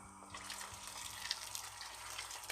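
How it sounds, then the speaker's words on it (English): Boiling water poured into a pot of oxtail soup, a steady faint splashing stream running close by throughout, with no talk. "I'm going to add more boiling water"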